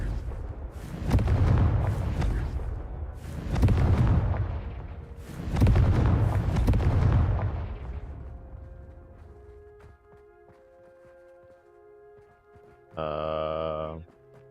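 A Confringo fire spell is cast in a Harry Potter game, and several heavy booming explosions land at a steady pace, each rolling off into a long fading rumble. A short bright chime follows after the blasts die away.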